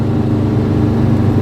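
An original 36-horsepower engine in a 1960 Volkswagen ragtop Beetle with 6-volt electrics, heard from the driver's seat while cruising: a loud, steady, even drone without break or speech.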